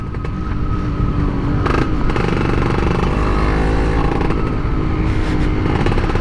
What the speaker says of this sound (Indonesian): sekarang gue masih pakai knalpot dari FJP Racing Muffler ya